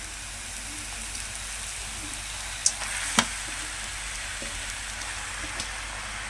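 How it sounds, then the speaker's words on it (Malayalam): Washed beef sizzles steadily in a hot pan as it is stirred and mixed, with a continuous frying hiss and a few sharp scraping clicks. "കഴുകി വെച്ച ബീഫ് ഇട്ട് മിക്സ് ചെയ്യും."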